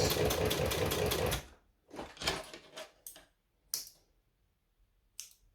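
A sewing machine stitches a fabric strap in a fast, close rattling run lasting about a second. Shorter bursts and scattered clicks follow as the needle is lowered and the work is pivoted.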